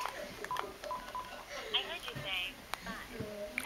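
Telephone keypad tones entering a phone number, with short dialing beeps heard faintly under people talking throughout.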